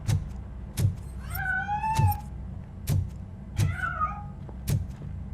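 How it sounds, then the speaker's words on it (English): A cat in the video game Robocop: Rogue City meows twice in drawn-out rising calls, set between sharp rhythmic knocks and a low rumbling bed. "That cat must be hiding inside."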